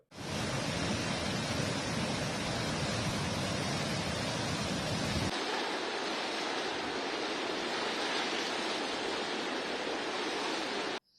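The flooded Ravi, Tawi and Chenab rivers in Jammu and Kashmir rage in a loud, unbroken rushing roar that turns thinner and hissier about halfway through.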